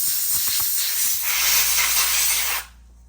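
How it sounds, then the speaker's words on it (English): An air compressor nozzle blowing debris out of a lawn mower that would not start: a steady, loud, close hiss of air that runs for about two and a half seconds and then cuts off abruptly. "Air compressor."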